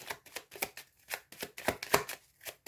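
Tarot cards being shuffled by hand in a rapid run of about a dozen crisp riffling bursts, close and fairly quiet, with no voices.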